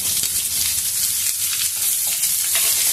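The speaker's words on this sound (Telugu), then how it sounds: "ఇప్పుడు ఈ ఉల్లిపాయ ముక్కలు కూడా వేసేసుకున్నాము" Chopped onions sizzle in hot oil in a pan with mustard seeds, a loud, continuous close hiss with faint stirring scrapes and no voices.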